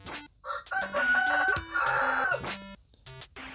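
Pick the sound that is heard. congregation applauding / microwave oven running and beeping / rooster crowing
rooster crowing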